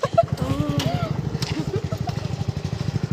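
A motorcycle carrying three riders over a bumpy road, its engine thrumming in a steady, close rhythm throughout while a voice speaks over it.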